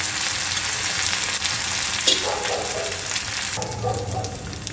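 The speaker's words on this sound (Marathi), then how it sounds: "याच्यामध्ये आपल्याला मिरची आणि लसूणची पेस्ट घालायची आहे आणि याला छान परतून घ्यायचं आहे" Chilli and garlic paste frying in oil with bloomed cumin, a loud, continuous close sizzle with a brief spoon scrape partway through.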